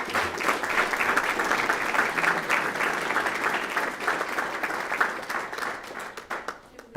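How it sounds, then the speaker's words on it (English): Steady applause from a school board meeting audience honouring the football team, a dense crowd clapping loud and continuous before thinning out toward the end. "How about a round of applause?"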